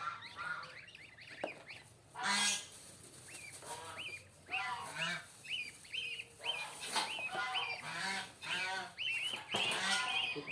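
Goslings peep and honk in a chorus of short, repeated calls as they are taken out and handled during a harvest at a goose farm, with people talking in the background.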